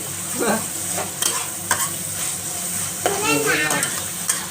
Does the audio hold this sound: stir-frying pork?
yes